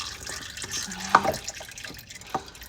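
Motor oil dripping from a car's drain plug opening during a DIY oil change, a few soft irregular drips over a quiet garage background.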